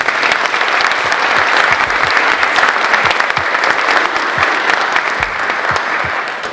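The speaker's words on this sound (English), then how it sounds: "if everybody could join me and give a round of applause for Chef Plemmons." An audience at a college alumni speaker event applauds a chef with sustained, dense clapping that stays loud and steady for several seconds, with no speech over it.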